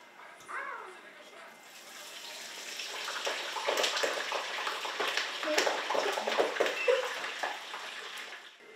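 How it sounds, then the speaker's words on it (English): Tater tots fry in hot grease in a home kitchen, a rising, crackling, hissing bubble that builds and holds at moderate loudness, with a brief voice early on. "I'm going to fry the tater tots now."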